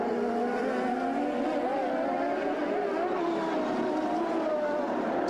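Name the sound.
CART race cars braking on the Detroit track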